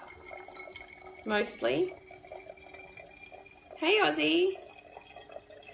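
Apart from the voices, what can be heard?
water filling a small spray bottle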